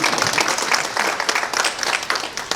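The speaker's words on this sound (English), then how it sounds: "Yeah, go ahead, clap." Luncheon audience clapping in appreciation, a dense burst of many hands at moderate loudness filling the room, steady throughout with no voices over it.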